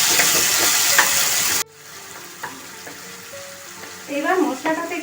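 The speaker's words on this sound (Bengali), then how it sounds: "একটু ভালো করে নাড়তে হবে যতক্ষণ না এটা তেলটা ছাড়ে এটা।" Spice paste frying in oil in a pan for paneer, a bright sizzle with spoon scrapes that suddenly drops to quieter bubbling and occasional stirring clinks, then sputters again near the end.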